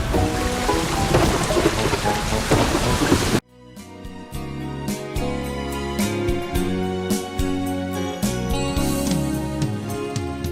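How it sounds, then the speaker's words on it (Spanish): Heavy rain and a rolling thunderstorm roar loud and dense at first, then cut abruptly into quieter steady rain with a musical soundtrack playing over it. "Y entonces comenzó a llover y a llover."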